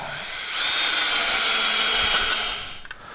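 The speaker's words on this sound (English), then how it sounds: "let's get these screws and screw this in" A power drill drives screws while assembling a Steelcore multi-load can crusher, a single loud close whirring burst lasting about two seconds before winding down.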